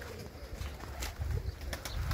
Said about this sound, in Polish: gołębie się kąpały